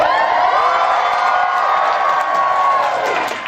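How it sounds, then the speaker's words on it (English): A crowd cheers and whoops in a room, loud and sustained for a few seconds with shouting voices blending together before fading slightly. "The crowd cheers Membrane."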